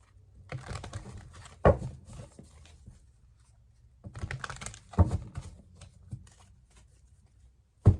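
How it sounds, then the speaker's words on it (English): Tarot cards being riffled and shuffled in two bursts of crisp, papery flutters, each ending in a firm tap, with quiet pauses between. "Let's get some shuffling out here."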